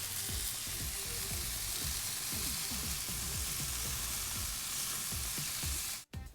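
Bacon-wrapped pork tenderloin sizzles steadily on a grill, a dense crackling fry that holds loud and even throughout before cutting off abruptly at the end.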